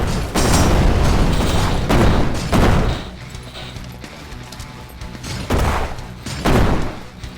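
Grenade launcher fire in a video game, with loud broadband bursts and blasts separated by quieter mechanical clatter, repeating several times.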